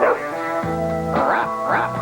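A dog barks and yips in a TV commercial, several short tonal barks spread over two seconds, loud and close.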